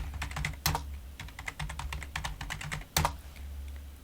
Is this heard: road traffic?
no